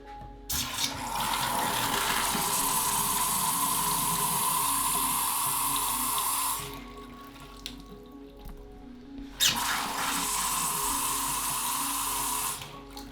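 Water runs steadily from a bathroom tap during a leak test in two long bursts, cutting off briefly in the middle before flowing again, loud and close.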